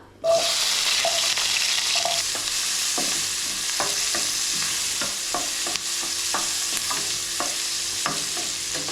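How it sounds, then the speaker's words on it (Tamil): Onions frying in hot oil in a pan for vendakkai puli kulambu, a steady close sizzle throughout with light stirring clinks and scrapes on top, no voices. "எண்ணெய் நல்லா சூடாயிடுச்சு வெங்காயம் சேர்த்துக்கலாம்"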